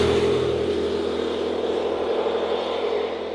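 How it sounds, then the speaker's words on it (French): An Aprilia Tuareg 660 motorcycle engine roars steadily at wide-open throttle with its intake flaps open, a loud, continuous drone heard close and alone. "Quand on ouvre bien en grand l'accélérateur, là, il y a des clapets qui s'ouvrent, on entend vraiment bien le vrombissement"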